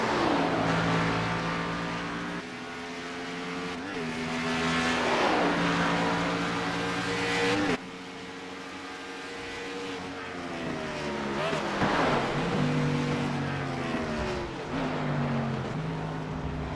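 Race car engines at Watkins Glen in the iRacing sim, including a number 1 Chevrolet with a bent front nose: a loud roar that rises and falls as cars rev, shift and pass, under continuous commentary.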